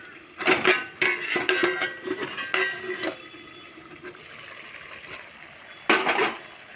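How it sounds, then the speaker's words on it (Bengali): Metal clatter of a cooking pot lid being lifted off a pot of pumpkin stem and potato chorchori, several close clinks and scrapes, then a quieter pause and one final clang. "ঢাকনাটা খুলে নেব।"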